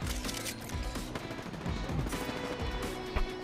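Rapid gunfire in the video game Apex Legends, a steady stream of punchy shots and bursts at close range, fairly loud throughout.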